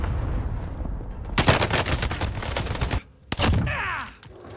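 Gunfire in Call of Duty: Modern Warfare, with rapid automatic bursts that are loud and close, then a short pause and another sharp volley fading into the distance.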